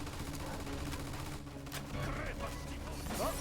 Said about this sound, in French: Oh, on dirait qu'on a retrouvé la mitrailleuse.